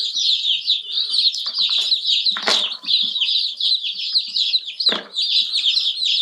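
Chickens on a cabin homestead give a busy mix of clucks and high chirps, close and lively throughout, with a couple of brief bursts of wing flapping or scuffling.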